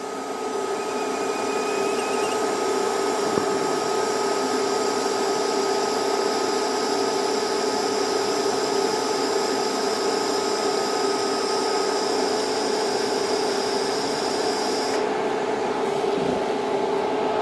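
A TIG welder runs steadily while laying a bead along a weld seam, giving a continuous even buzzing hum with a constant high hiss, close and unbroken for the whole stretch.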